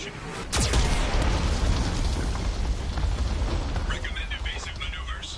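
A heavy booming Geth cannon blast from the video game Mass Effect 2 erupts and rumbles on, with a synthetic warning voice and chirping electronic tones over the noise.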